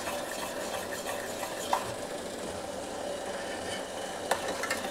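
A homemade multani mitti soap mixture is cooked and stirred in a pan until foamy, making a continuous soft sizzling, bubbling texture with a couple of faint clinks from the spoon.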